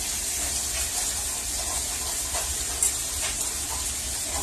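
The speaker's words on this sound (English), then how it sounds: "I'm going to go ahead and add this meat to the pan here" Meat patties for homemade Salisbury steak sizzling as they go into melted butter in a hot pan, a steady close hiss and crackle with a brief sharper spatter.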